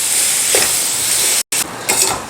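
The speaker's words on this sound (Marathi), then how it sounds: "एक मिनिटभर छान या भाज्या परतून घेऊया" Cabbage, vegetables and tomato sizzle in a pan with a steady close hiss. A spatula gives soft occasional stirs, and the sizzle drops out briefly midway.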